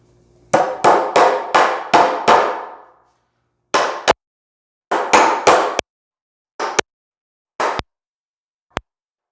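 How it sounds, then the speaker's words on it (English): Hammer blows on nails into wooden framing set 16 inches on center: a quick run of six sharp, ringing strikes, then scattered single taps and knocks with pauses between, close and loud with no talking. "starting with the hammer and nails"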